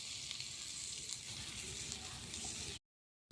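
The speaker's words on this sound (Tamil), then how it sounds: "இது எல்லாத்தையும் போட்டு நல்லா வதக்கிடலாம் வெங்காயத்தை நல்லா வதக்கி எடுத்துடலாம்" Onion and green chillies sautéing in a pan for a broiler chicken egg gravy, a steady, close, even sizzle that runs without a break and then cuts off abruptly near the end.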